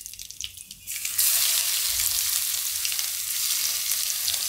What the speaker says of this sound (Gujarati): હવે આપણે હિંગ નાખી દઈશું. ને લસણ નાખી દઈશું.